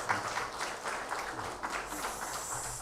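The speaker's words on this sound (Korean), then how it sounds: "우리 은혜로운 찬양해 주신 성가대원들에게 다시 한번 감사의 박수하겠습니다." Congregation applause for the choir at a university chapel service, a steady, moderately distant wash of many hands clapping in a large hall, sustained evenly throughout.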